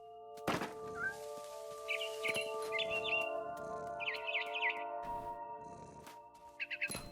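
A scared barn swallow in What Remains of Edith Finch gives short bursts of high chirps spaced through the clip, interrupted by several soft thunks, over a steady quiet ambient tone.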